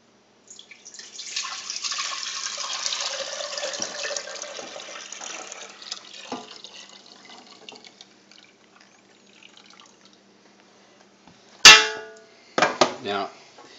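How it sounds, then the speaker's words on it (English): Turkey drippings pour into a saucepan in a steady liquid trickle that thins out over several seconds, followed by a few sharp clanks of the pan. "dump these drippings into my saucepan"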